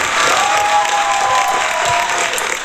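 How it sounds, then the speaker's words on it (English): Steady, dense applause from an audience, loud and continuous throughout with no voices standing out. "a big round of applause"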